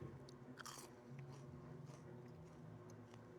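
Someone bites into crispy truffle-dusted fries, giving a few close, quiet crunches and chewing sounds over soft background noise.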